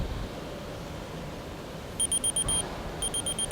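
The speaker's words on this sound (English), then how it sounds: "You see we have 2 beeps with the red flashing twice as well." Warning beeps from a Strata Worldwide proximity detection cap lamp on a surface trial: two quick bursts of rapid, high-pitched electronic pips over steady background noise, fairly faint.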